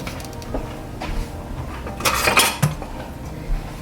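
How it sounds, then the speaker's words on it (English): Sugar and salt whisked together in a bowl for Jamaican hardo bread: quick metallic scraping and clinking of a whisk against the bowl, close, with a louder flurry partway through and no talking. "and just whisk everything together."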